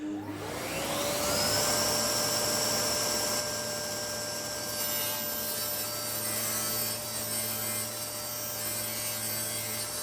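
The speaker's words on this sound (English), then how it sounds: "Then I can just rip a strip of scrap 6mm MDF to fit." Saw ripping a strip of scrap 6mm MDF, a steady motor whine that spins up quickly and runs continuously for about ten seconds under a broad, rough cutting noise.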